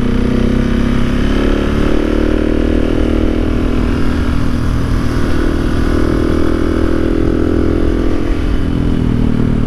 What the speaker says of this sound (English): The exhaust sounds great.